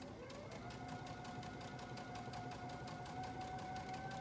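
A sewing machine runs steadily while stitching a shirt, the presser foot lifted to pivot at each corner; a continuous close whirr with faint rhythmic ticking, and speech is faintly present.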